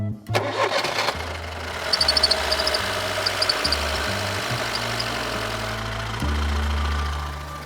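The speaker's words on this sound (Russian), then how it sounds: "Так, заводи ее, пусть работает на холостом ходу." Car engine at an auto repair shop cranking and starting, then settling into a steady, loud, close idle with a low rumble that shifts pitch slightly, a brief clatter near the start.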